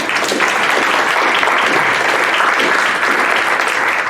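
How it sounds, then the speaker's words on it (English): A school audience at a parents' lunch-and-learn session breaks into steady, dense applause, loud and close, with many hands clapping continuously and no talk over it. "So let's give them a round of applause."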